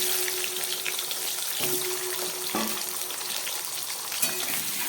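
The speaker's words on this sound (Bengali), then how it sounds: "এবার এই তেলের মধ্যে আমি কিছুটা আলু ভেজে নিচ্ছি।" Two small diced potatoes fry in oil with a continuous crackling sizzle, broken by a couple of light knocks from stirring.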